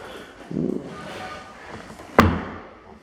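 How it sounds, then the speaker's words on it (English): A single solid slam of a BMW i8 car door shutting, sharp and close, after some faint shuffling and handling sounds. "Let me just shut the door a second."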